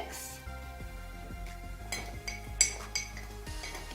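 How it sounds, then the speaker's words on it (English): Spoon clinks against a mug while chocolate mug cake batter with stevia is stirred, light repeated taps and scrapes at close range over faint background music. "Then I'm also going to add in the stevia. And I'm going to give that a little bit of a mix."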